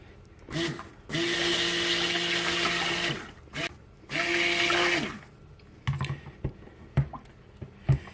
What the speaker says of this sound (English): I'm blending the calendula petals into the oils before I add the lye solution